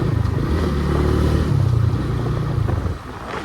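A loud motorcycle engine rumbles steadily at close range, its low throaty idle holding before easing off near the end.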